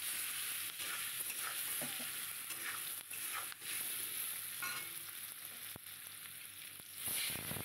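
Beaten eggs go into a pan of frying onions, a soft steady sizzle with scraping stirring sounds and occasional clinks, fairly quiet and without talk.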